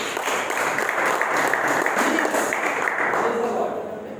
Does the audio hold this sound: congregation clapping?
yes